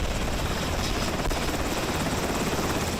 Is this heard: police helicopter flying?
yes